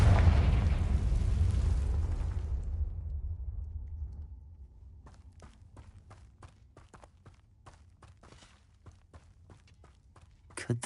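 A Confringo spell explosion in Hogwarts Legacy booms at the start and rolls off over about four seconds. A quiet stretch follows, then a series of soft footsteps and a brief rise in noise at the very end.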